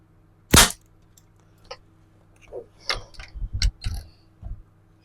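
A smallbore rifle fires at an indoor benchrest range, one sharp loud shot followed by softer clicks and clacks of handling and reloading.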